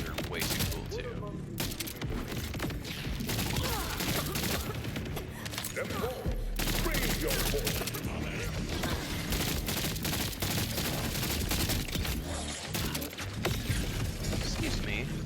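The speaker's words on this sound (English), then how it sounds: "those grenades that it shoots out are just way too cool" Weapon in Borderlands 4 firing grenades that burst into explosions, a dense, continuous barrage of loud gunfire, blasts and mechanical clatter throughout, with occasional speech mixed in.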